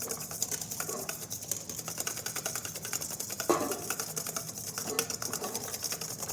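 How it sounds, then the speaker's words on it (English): Steady, fast whisking of hollandaise sauce in a bowl set over a double boiler, a quiet even metallic ticking that keeps going throughout with no voice over it. "Just keep whisking away."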